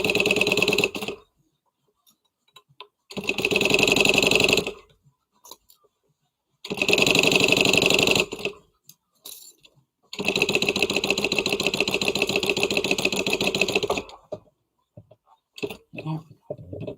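A home sewing machine stitches a zipper in place at an eighth-inch seam, running loud and close in four separate bursts with short pauses between them, and no talking over it.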